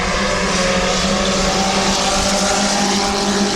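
Compact race cars roar around Midvale Speedway in a heat race, a dense, continuous wall of engine noise from several cars at once, loud and steady throughout.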